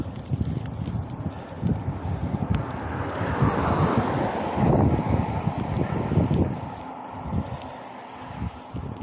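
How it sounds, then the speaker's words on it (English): Wind buffets the microphone while riding a Breezer Radar X Pro bike on the road, a loud roaring rush that swells in the middle and dips near the end. "Here's the bloody wind again."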